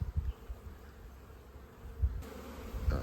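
Bees drone in a low, continuous buzz with scattered closer fly-bys rising and fading, outdoors with no voices.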